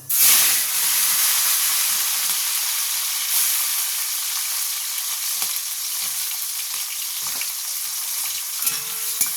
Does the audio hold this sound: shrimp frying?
yes